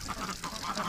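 A Peking duck crossbreed gives a short burst of quacks, close and moderately loud over a noisy outdoor background.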